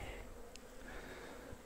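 Honeybees on hive frames of emerging brood, with young pale grey bees, give off a steady soft buzzing hum that holds evenly throughout at low level, with no talk.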